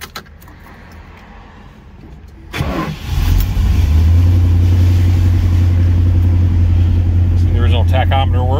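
A 1970 Dodge Dart 340 Swinger cranks briefly and catches, then settles into a loud, steady V8 idle close by, with keys jangling before the start and a person talking briefly over the running engine.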